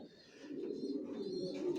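Racer pigeons in a loft give soft, faint cooing in a brief, continuous murmur.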